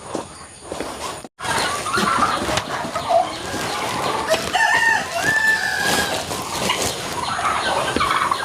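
A backyard rooster crows among a flock of household chickens, its drawn-out calls rising clearly over steady yard noise and chicken clucking, with a brief silent gap near the start.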